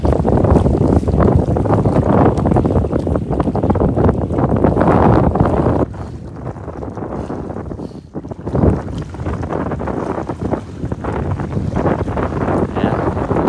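Strong wind at sea aboard a small fishing boat during milkfish fishing, loud blustery rushing that buffets the microphone, easing slightly halfway through with a brief dip, continuous and close with no talk.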